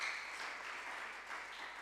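An audience at a secondary school debate competition claps in a steady, even wash of applause that fills the moment without pause, moderately loud and with no speech over it.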